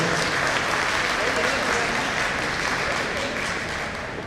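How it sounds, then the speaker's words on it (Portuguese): Audience at a congress applauding a speaker as she is welcomed, a dense sustained wash of clapping from many hands that stays strong throughout and eases slightly toward the end. "recebendo uma salva de palmas"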